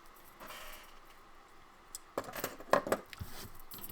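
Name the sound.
scissors trimming paper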